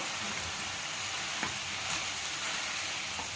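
Veg manchurian stir-fried with sauces in a hot pan, a loud, dense, continuous sizzle throughout with faint stirring scrapes mixed in.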